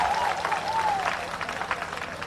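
A church congregation claps in a brief, steady burst of applause, moderately distant, with a faint voice drifting over it.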